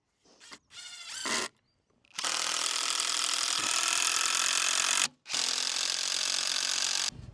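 A drill pre-drills and drives screws into the wooden frame of a hinged hoop house over a raised bed: a few short whirring bursts, then two long, loud, close runs of grinding motor noise separated by a brief pause.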